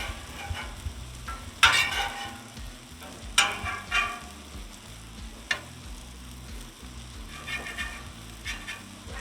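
Sausage frying in a pan, a low continuous sizzle broken by a few sharp scrapes and clinks of a utensil.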